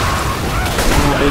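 Gunfire and a grenade blast rattle in a dense, noisy burst of combat in the video game Left 4 Dead 2, loud and close throughout, with a heavier thump near the end.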